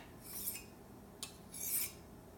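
A blade is drawn across a 6000 grit sharpening stone, giving a few quiet, brief hissing strokes in an otherwise faint, still setting.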